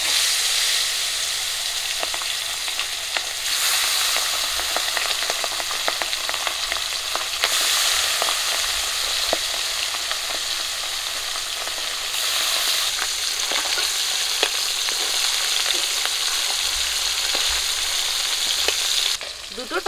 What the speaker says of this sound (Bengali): মাছগুলো ভালো করে লবণ হলুদ মাখিয়ে নিয়েছি, কড়ার মধ্যে দিয়ে দেবো।